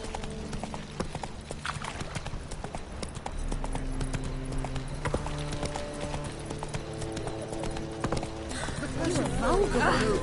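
Horse hooves clip-clop steadily at a walk in The Witcher 3, a regular clatter with music playing underneath and speech over it, growing a little louder toward the end.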